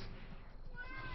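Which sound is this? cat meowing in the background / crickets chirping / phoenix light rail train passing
cat meowing in the background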